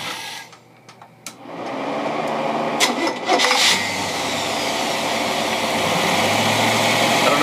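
A car engine fitted with an AVS carburetor cranks briefly, fires up and settles into a steady, fairly loud idle that holds through the rest of the clip.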